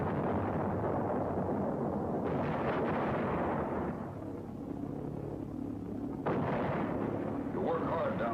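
Anti-aircraft guns firing at V1 flying bombs in 1944, a dense, continuous rumbling barrage of heavy bursts and booms that stays loud throughout, with a few sharper blasts cutting through.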